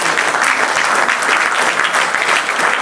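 Loud, close, continuous applause from a crowd at a political rally, a dense even roar of clapping filling the whole stretch.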